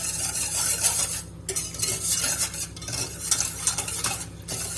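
Custard cream being stirred in a pot on the stove, continuous close scraping and swishing strokes in an uneven rhythm with brief pauses, over a faint background hiss.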